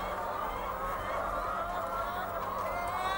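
Dense flock on a poultry farm holding around 40,000 broiler and laying chickens, a continuous crowded chorus of clucks and squawks at steady volume.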